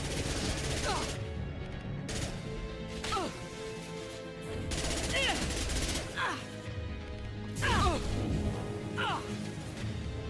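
Gunfire in the Mass Effect 2 game: several sharp shots and crashing impacts spread across the clip, fairly loud over a steady battle din, with a voice talking at points.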